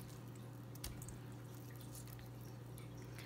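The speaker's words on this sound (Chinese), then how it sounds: "就咁慢慢逐隻逐隻洗，洗完之後咧就過兩個水" Dried shiitake-style mushrooms being washed one by one in a bowl of water, soft intermittent drips, splashes and squishy handling sounds, close but quiet and unhurried, with no one talking.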